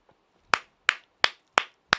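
Hard, sharp hand claps, five in a row at an even, fairly quick pace, loud and close, with silence between them.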